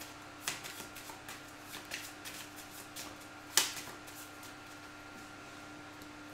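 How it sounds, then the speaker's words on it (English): A deck of Firefly board game cards being shuffled at close range, a few quick riffling bursts and a sharp final snap against a quiet room background. "Shuffle."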